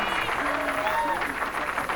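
Crowd murmur and scattered applause at a bowling alley during a semi-final match of a bowling tournament in Omaha, a steady mid-level wash of voices and clapping with faint talk over it.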